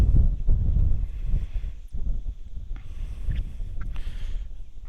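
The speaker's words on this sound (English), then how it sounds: "Sorry about all the wind you're no doubt hearing" Wind buffets the microphone outdoors with loud, uneven rumbling gusts that rise and fall, stronger at the start and continuing throughout.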